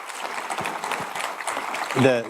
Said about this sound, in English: Let's give a round of applause to people watching this live.